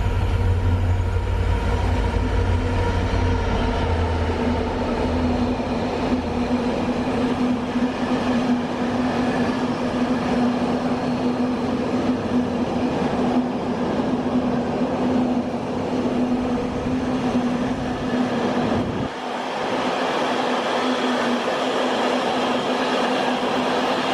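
A train from Wembley rumbles through Rugby station, a steady low mechanical drone with a persistent hum and faint rail clatter that continues for a long stretch, then the heavy low rumble drops away near the end.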